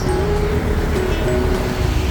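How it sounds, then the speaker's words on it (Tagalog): Steady low road traffic rumble while stuck in slow traffic on a causeway, a continuous broadband drone of engines and tyres with no talk. "traffic kami dito sa causeway"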